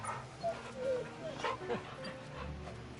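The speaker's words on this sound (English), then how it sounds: "Hey, Torgal. Good job. Boy. Good boy. Pet the dog" Torgal, the dog companion in the video game Final Fantasy XVI, gives soft whimpers and yips at a low level amid game ambience.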